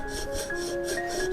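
A fine jeweller's saw blade cuts through a small 1.5 millimetre piece of silver, giving a steady rhythmic rasp of about six quick back-and-forth strokes, close and moderately loud, with no talking.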